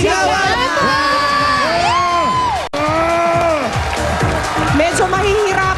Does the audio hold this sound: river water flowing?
no